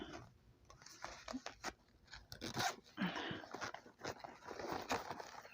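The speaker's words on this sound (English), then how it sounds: "this is a zip pocket in here, which is really nice" The zipper on the zip pocket inside a black Praday bag is pulled open in short, quiet, scratchy bursts with crinkly handling noise between them, close up and with no talking.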